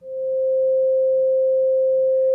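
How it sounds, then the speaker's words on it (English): A steady, pure sine wave tone holds one unwavering pitch from start to finish, loud and alone with no other sounds. "This is a sine wave, and this is what it sounds like."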